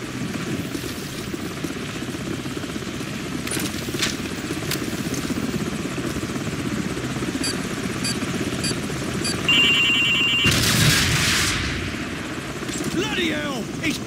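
An enemy helicopter flies overhead in Call of Duty 4: Modern Warfare: a continuous rotor drone with steady low throbbing runs throughout, mixed with game effects, a brief beeping tone and a short burst of noise near the end.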